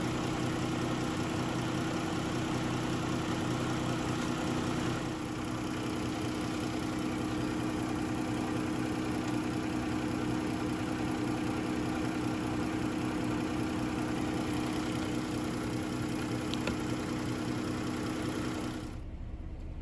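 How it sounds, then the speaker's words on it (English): A 2012 Chrysler Town & Country engine idling with a light roughness, a steady, close, continuous hum and vibration that holds evenly throughout without revving. "there's like a light rough idle here"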